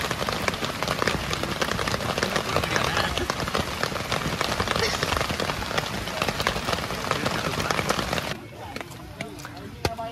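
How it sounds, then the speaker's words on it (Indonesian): Steady rain patters on a surface on Mount Cikuray, a dense continuous hiss that drops away near the end, with a voice speaking over it. "Hujan gini."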